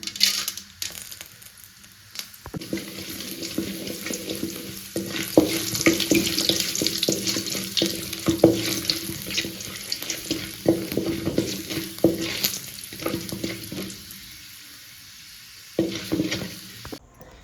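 Half a spoon of mustard seeds and chana dal frying in hot oil for gorikayi palya, a continuous crackling sizzle with stirring clatters, louder in the middle stretch and easing near the end, with no speech.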